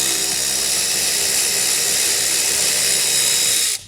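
A continuous mechanical whir loosens a Torx fastener on a Tesla Model Y Juniper front bumper near the wheel well, steady and close for several seconds before cutting off abruptly.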